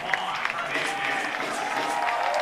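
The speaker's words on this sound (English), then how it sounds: "Big round of applause for Juan Hernandez, always so popular here" Stadium crowd applauding and cheering for a soccer team captain at a CFC versus Maryland Bobcats FC match, a steady distant wash of clapping with a few sharper claps, a voice talking over it.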